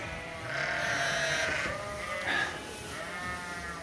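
Several ewes bleat in loud, drawn-out calls, two overlapping cries and then a shorter one, at close range on a farm where sheep are being fattened during a drought.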